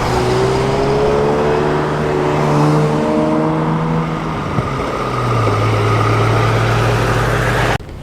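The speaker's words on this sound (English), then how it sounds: "There's a DAF just pulling in, quite a modern one." A fairly modern DAF lorry pulls in at a classic lorry road run: a loud, close diesel engine drone that shifts pitch as it slows and settles, running steadily, then cutting off abruptly at the end.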